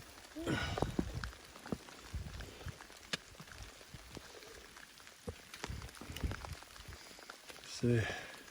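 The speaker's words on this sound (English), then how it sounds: "Raining, this is what we're going through here." Rain falls on the Appalachian Trail as a faint, steady patter, with occasional rustling and handling noises close by during an uphill hike.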